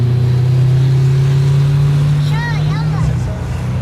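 Someone's bulletproof Russian army car in Dagestan, a steady low engine drone close by while driving, with chirpy voices briefly over it toward the end.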